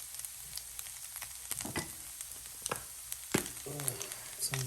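Rice mixed into a hot frying pan for egg fried rice, a light sizzle under scraping and clinking of the utensil against the pan in quick irregular strokes, close by and fairly quiet.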